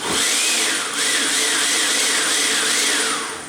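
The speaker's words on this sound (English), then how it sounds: "blitz here with the blender" A blender blitzes a mixture topped up with a quarter cup of chicken stock, a loud, steady whirring motor that runs continuously, with slight rising and falling pitch sweeps, close up and alone for the whole stretch.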